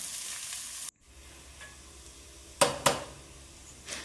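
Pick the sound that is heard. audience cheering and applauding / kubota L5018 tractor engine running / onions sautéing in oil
onions sautéing in oil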